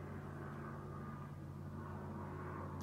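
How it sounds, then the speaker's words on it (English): An airplane passing overhead makes a continuous, even low droning rumble that holds steady throughout, with no talk over it. "Do you hear that plane?"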